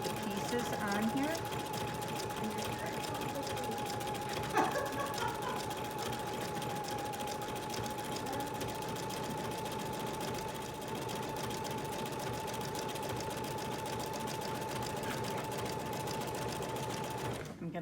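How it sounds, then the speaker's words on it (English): Sewing machine stitching through many layers of an in-the-hoop envelope bag, a steady close mechanical whir with a constant tone held for the whole stretch, no pause. "I'm going to use my foot control to sew around this part because I am going through many layers here"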